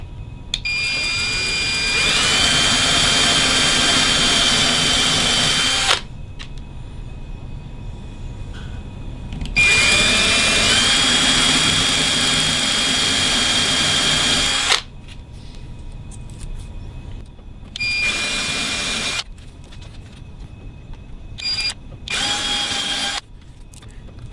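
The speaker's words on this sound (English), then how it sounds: "Put my finger on the template as I'm drilling so it doesn't move." A power drill whines in long bursts separated by short pauses as it bores through a side dot template on a guitar, loud and close, with no talking.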